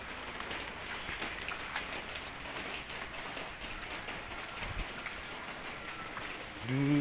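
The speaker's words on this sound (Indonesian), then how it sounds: "Tuh, masih hujan, masih gerimis ini, hujan masih gerimis banget" Light drizzling rain during the rainy season patters steadily outdoors as a soft, continuous wash of noise, with a brief louder tonal sound right at the end.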